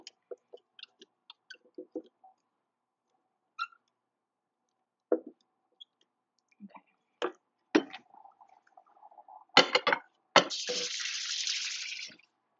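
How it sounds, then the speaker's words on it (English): Hands rinsed under a running kitchen tap after handling spicy chili: scattered clinks and taps, then a short burst of running water that swells into a steady close gush before stopping. "Rinse my hands off."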